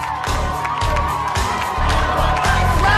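A large crowd cheers and whoops in the Gladiators arena, a steady loud roar with excited shouts rising and falling over a thumping music bed.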